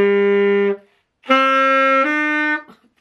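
Saxophone plays a few sustained, clear notes of Amazing Grace, a short held note, a pause, then two longer tones, alone with no talking.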